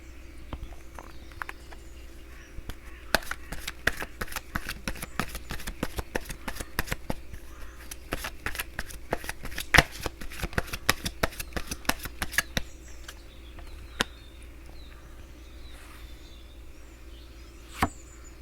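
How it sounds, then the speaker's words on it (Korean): Tarot cards are shuffled in a steady run of soft, quick riffling taps, fairly close and quiet, tapering off into a few isolated flicks toward the end. "조언 카드 한 장 뽑아보도록 하겠습니다"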